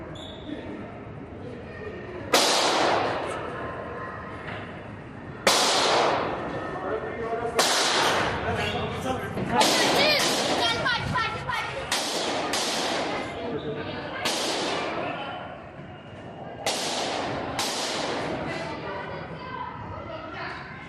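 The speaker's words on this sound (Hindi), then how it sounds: "कोर्ट में फायरिंग की तस्वीरें आप देख पा रहे हैं" Repeated sharp gunshots crack out at irregular intervals, roughly ten loud reports over twenty seconds, from a shootout inside a courtroom in Delhi, set against a continuous background rumble.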